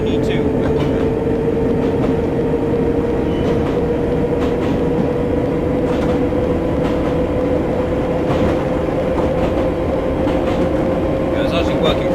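Train-simulator recreation of a District line train on the London Underground near Putney Bridge, with a steady loud rumble and motor whine throughout and faint clicks of wheels over rail joints.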